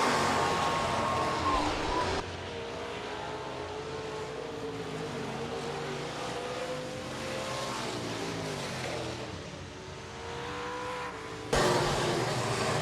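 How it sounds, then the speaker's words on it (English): Stock car at a dirt oval speedway roars out of the final turn in a heat race, a loud sustained engine drone with rising and falling pitch as it passes, louder bursts at the start and end. "Here he comes out of turn number 4, your heat race winner, Colton Ahrens."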